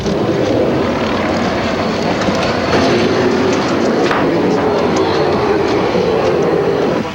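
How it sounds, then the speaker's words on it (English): A BAE Hawk jet trainer with a single Rolls-Royce Adour engine roars with a steady, loud, broadband rush that holds constant throughout, with no talk over it. "This is the Hawk, one of the most successful small aircraft in the world."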